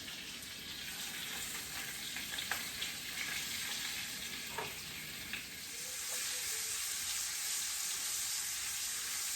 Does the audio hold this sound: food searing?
yes